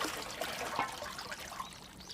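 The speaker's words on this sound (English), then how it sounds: "People rinse out pots in the tanks and clean their freshly picked vegetables" Water trickles and splashes softly as villagers rinse pots in a Satoyama village water tank in Japan, a faint, steady dribbling with a few small drips.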